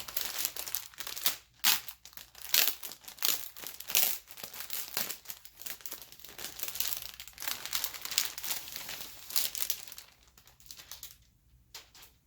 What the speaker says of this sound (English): I'm going to take everything out of the plastic too.